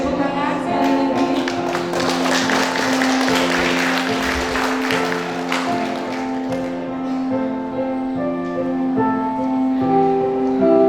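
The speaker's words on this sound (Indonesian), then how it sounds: "Oke, tepuk tangan sekali lagi." An audience at a church anniversary gathering in Paribang Baru claps, steady applause rising over background music and a voice, then fading as the music carries on alone.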